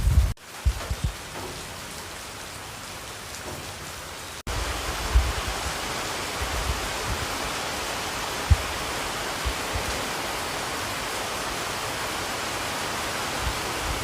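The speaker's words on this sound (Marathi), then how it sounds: "एवढा मोठा पाऊस यायला लागला आहे तुम्ही बघू शकता" Heavy rain pours down in a steady, dense hiss that gets louder after a brief break and is dotted with a few soft thumps. No one speaks.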